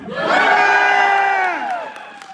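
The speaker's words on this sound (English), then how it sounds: "Incredible, you get the biggest cheer." A live studio audience at a Super Troopers cast interview lets out a loud, rising cheer of whoops and shouts that holds for over a second, then fades away.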